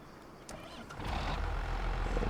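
A tractor engine in Farming Simulator 25 starts up, a low rumbling drone that swells after a short clank and keeps running loud and steady.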